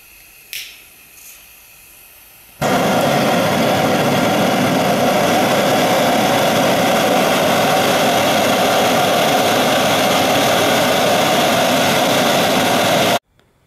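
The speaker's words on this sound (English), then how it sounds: "This burner is 28 millimeters diameter, consuming 600 grams of gas per hour at 2 bar" A Sievert gas burner, 28 mm in diameter and running at 2 bar, bursts alight after a few quiet clicks and holds a loud, steady roar for about ten seconds before cutting out abruptly.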